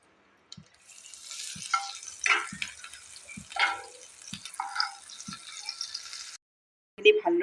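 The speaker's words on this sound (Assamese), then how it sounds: "ইয়াতে মই 1/2 চামুচ বাটাৰ এইদৰে দি দিছোঁ।" Half a spoon of butter melting into hot oil in a pan over a gas flame for Assamese chickpea ghugni gives a steady sizzling hiss for about six seconds. Soft regular taps run through it before the sizzle cuts off.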